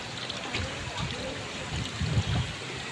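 Water being poured into a pond holding katla carp fish seed, a steady splashing, gurgling flow close by, with light turbulent bursts and a faint voice beneath.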